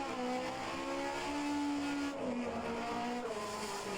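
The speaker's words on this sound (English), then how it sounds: "You can hear him going down gears." A race car in a racing video game set at the 1988 Australian Grand Prix, a loud continuous engine drone whose pitch steps and drops as it changes down through the gears, with a brief tire squeal.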